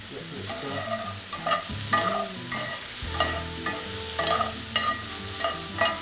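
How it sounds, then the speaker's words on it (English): Roast tofu and mushrooms stirred in a pan, repeated scraping strokes over a soft continuous sizzle, with faint tonal background music underneath, close and fairly quiet. "Okay, so now I'm gonna stir it."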